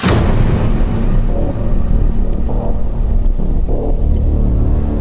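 Steady, loud rainfall during a rainy-season night outdoors, a dense continuous wash with low rumbling underneath like distant thunder, heard without any voices.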